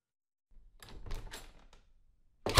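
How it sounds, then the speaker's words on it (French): A door opens in a storybook setting, with a series of wooden creaks, knocks and thumps at moderate volume, then a louder heavy thud at the end. "La porte s'ouvrit"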